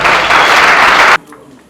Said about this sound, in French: c'est sous nos applaudissements et sous nos acclamations